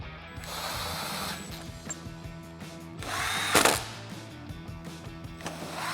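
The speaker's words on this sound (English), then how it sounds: "install the rest of the screws across the top of the header" Power driver running screws into the top header of a Jeep Wrangler JK soft top, bursts of whirring drive with ratcheting clicks and a louder surge near the middle, close and without talk.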